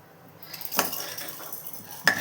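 Chana dal dry-roasts on low heat in a pan, quiet scraping and shuffling with a couple of sharper metallic clinks from a utensil against the pan.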